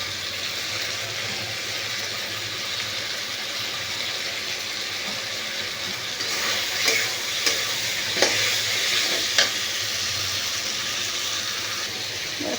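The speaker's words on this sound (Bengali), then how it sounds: "খুব সুন্দর করে আমি মিক্সড করে নিয়েছি" Fried potato and pointed gourd pieces are stirred into a sizzling spice masala in a pan with salt, a steady frying hiss broken by a few sharp scraping strokes of the spoon near the end.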